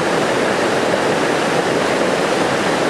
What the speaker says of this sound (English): So the Gill Brook's lovely, right here.